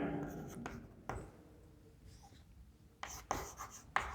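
Chalk or marker writing on a board during a lecture, heard as scratchy strokes in bursts with quieter pauses between, close and fairly loud, with no talking over it.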